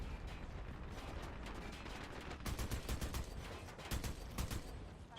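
Rapid bursts of gunfire from the video game Dirty Bomb, clustered rattling shots overlapping in a busy firefight, fairly quiet and distant in the mix.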